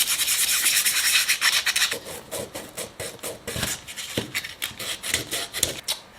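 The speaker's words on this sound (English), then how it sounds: "I just use a little piece of emery cloth. This is also 400 grit" Hand sanding of forged carbon fiber on a Sonex aircraft part with a small piece of 400 grit emery cloth: steady close rubbing at first, then quick rhythmic back-and-forth scrubbing strokes, with no talking.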